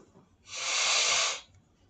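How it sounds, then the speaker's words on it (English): One forceful nose blow lasting about a second, a close, loud rushing hiss that starts and stops cleanly against a quiet background. "Good, got to blow my nose again."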